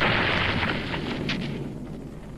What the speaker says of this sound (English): Ah, the old exploding bear trap in the ass trick.